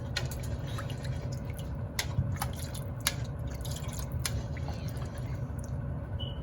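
Oyster sauce poured into pancit cooking in a pan, soft wet squishing and dripping sounds with scattered small clicks over a steady low background.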